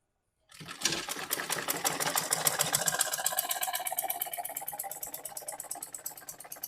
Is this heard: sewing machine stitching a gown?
yes